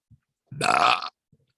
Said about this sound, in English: and one last burp